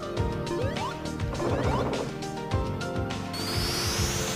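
Objects break in a Sega Saturn video game with repeated crunching smash and whack impacts over busy game music and effects, including a rising tone sweep, all fairly loud and continuous.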